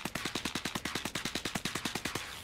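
Rapid automatic gunfire in the sci-fi shooter game Star Citizen, a steady burst of about twenty evenly spaced shots over a couple of seconds, loud and close with no talking.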